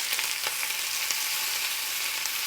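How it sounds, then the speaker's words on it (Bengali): Diced potatoes fry with spices and mutton fat in a pan for ghugni, a steady dense sizzle with faint crackles, close and even throughout. "এবার আলুগুলোকে মশলা এবং চর্বির সাথে একটু কষিয়ে নিতে হবে।"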